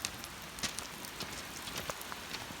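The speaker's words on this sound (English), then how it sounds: "This is where all the rain is flowing from down the road here" Heavy rain falls on a homestead, a dense steady hiss of drops with scattered sharper taps and spatters close by, continuous throughout with no voices.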